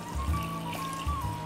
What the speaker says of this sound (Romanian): Iar dacă mai este nevoie, putem adăuga și apă